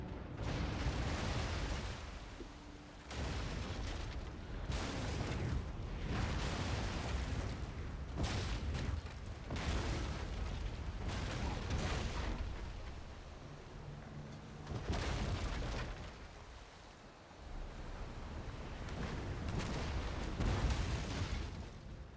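Warship cannons fire broadside after broadside in a Napoleon: Total War naval battle, a continuous roar of booming shots overlapping into dense, rumbling waves with brief lulls between volleys.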